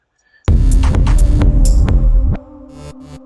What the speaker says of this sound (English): This is the bass I did.